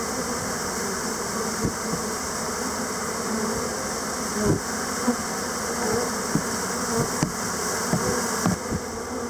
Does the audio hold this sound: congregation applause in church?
no